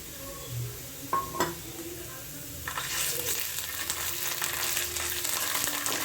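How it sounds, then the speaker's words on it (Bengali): Ginger garlic paste hits a hot frying pan for mochar chop, a few clinks of utensil first, then a loud continuous sizzle that holds steady to the end. "এবার আমি আদা রসুনের পেস্টটা"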